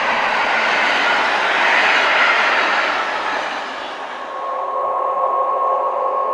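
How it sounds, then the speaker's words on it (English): The Iore freight train rolls past Polcirkeln station on the Arctic Circle, a loud steady rumble and rush of wagons close by, with a faint tonal whine rising as it passes. "One of the trains to pass through Polcirkeln is the Iore, a daily Norwegian freight train linking Oslo and Narvik."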